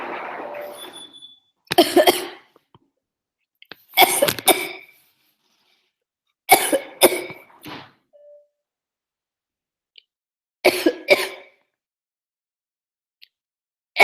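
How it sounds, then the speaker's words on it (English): Several separate bursts of coughing sound close up in a quiet room, with a sharp, harsh fit about every two to three seconds and silence between them. "This cough I have is so annoying."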